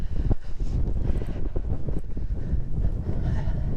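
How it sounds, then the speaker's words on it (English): Strong wind buffets an outdoor microphone on flat open farmland in a medieval area, a steady loud low rumble with gusty thumps throughout and no speech. "I really hope that wind's not causing too much problem"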